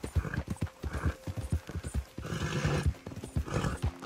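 Horse in the video game Red Dead Redemption 2, rhythmic clip-clop of hooves close by followed by a whinny and snorting as the animal stops.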